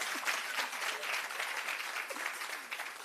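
A crowd at a parent-support launch event claps for a colleague, a dense continuous round of applause, moderately loud and steady throughout, with a faint voice or two underneath.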